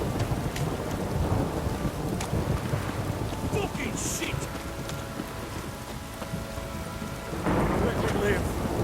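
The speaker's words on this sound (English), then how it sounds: "this downpour's a bastard" Heavy rain pours steadily with thunder rumbling through a stormy scene in The Witcher 3 video game, loud and continuous throughout, with someone shouting a brief curse over the downpour.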